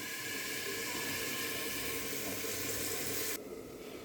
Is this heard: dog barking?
no